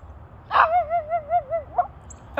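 A small dog gives a sharp bark followed by a long wavering whine that rises and falls several times, close by, ending with another short yelp, with no talking over it.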